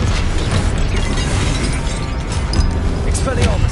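A Confringo fire-blast spell in Hogwarts Legacy bursts within a loud, constant din of duel effects, its explosive pops blending into rumbling, clattering combat sounds while voices call out.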